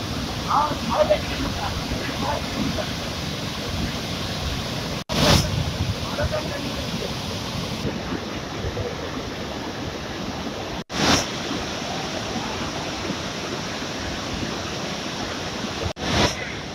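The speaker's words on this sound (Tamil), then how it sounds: "அருவிகளில் கடும் வெள்ளப்பெருக்கு ஏற்பட்டது" The flooded Courtallam waterfalls roar as a constant heavy wash of water that fills the whole scene, while a voice talks over it throughout.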